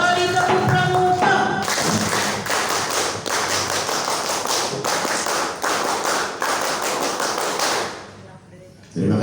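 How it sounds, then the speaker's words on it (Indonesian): A large Pramuka scout assembly at a district council meeting breaks into rhythmic group clapping, the dense patterned claps of the scout clap chant ringing out loudly together before fading to quiet. "Dua kali tepuk pramuka."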